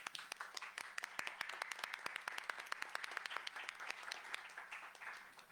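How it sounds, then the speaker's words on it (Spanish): A small audience at a university authors' meeting gives a brief round of applause for a doctor joining the panel, the individual claps distinct and fairly quiet, fading after a few seconds. "Un aplauso, por favor."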